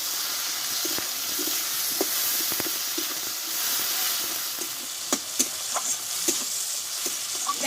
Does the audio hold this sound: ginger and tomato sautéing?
yes